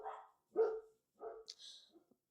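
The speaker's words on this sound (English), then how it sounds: "Sorry about my dogs." Dogs barking indoors, several sharp close barks in a quick irregular burst followed by a few smaller yips and faint whimpers, loud and alone without talk.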